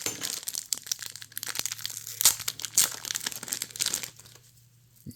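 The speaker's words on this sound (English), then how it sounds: "Let's get this thing open. These foil packs," A foil pack of trading cards being torn open, giving a close, continuous crinkling and crumpling of foil with a few sharper crackles and tearing bursts, and no talking.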